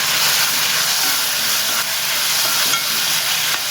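Beef with onions and tomatoes sautéing in a pan, a steady close sizzle and hiss with faint stirring scrapes throughout.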